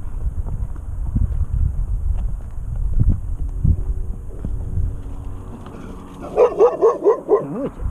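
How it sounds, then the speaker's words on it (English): After a stretch of low rumbling and scattered knocks, a dog barks several times in quick succession near the end, the yips close and fairly loud. "Oh, it's a doggy."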